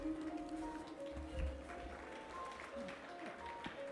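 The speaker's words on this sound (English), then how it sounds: "Huge round of applause, students." Applause for graduating students at a university convocation on a Bengaluru campus, a scattered patter of clapping mixed with hall noise and a low rumble.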